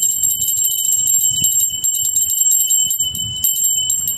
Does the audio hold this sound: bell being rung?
yes